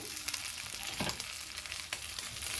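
Guinea fowl pieces sizzling loudly in a cocotte, a dense, continuous close-up frying hiss with faint stirring crackles.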